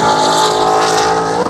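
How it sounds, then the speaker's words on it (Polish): Dodge Challenger Hellcat V8 racing past at an American-style car event, a loud, close engine roar that rises and shifts pitch briefly as it passes. "Tam Challenger, chyba Hellcat."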